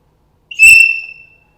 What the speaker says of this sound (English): There you got it. It is a whistle.